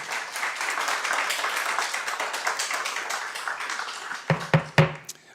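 Audience applause at a school board meeting: steady, dense clapping from a crowd sustained for several seconds, then thinning into a few scattered louder claps at the end.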